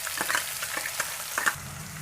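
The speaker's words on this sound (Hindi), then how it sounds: "फिर हम इसमें प्याज डाल देते हैं।" Onions hiss and sizzle in hot oil with peanuts and green chillies for Maharashtrian kanda poha, a steady close frying crackle broken by a few brief stirring scrapes, with no voices.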